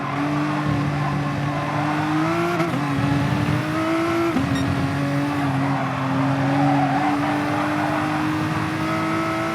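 Race car engines roar and shift pitch in Gran Turismo Sport at Spa, the close engine note climbing and dropping through gear changes over a steady layer of other cars, with no voices.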